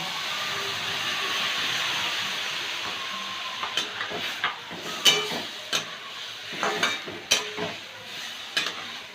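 A cup of water hits a pan of fried oats and vegetables, setting off a loud, steady hissing sizzle. The hiss then fades under a series of sharp stirring clinks and scrapes.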